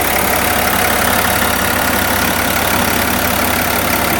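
The diesel engine of a 2020 Chevrolet Silverado 1500 Duramax pickup idles steadily up close, a constant low rumble with a faint knocking clatter and no voices.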